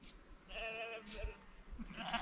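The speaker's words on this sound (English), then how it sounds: "these are the local sheep population" A sheep bleats once, a wavering cry from the local flock in a field among rolling hills near Newton-in-Bowland, heard at moderate distance over faint outdoor background.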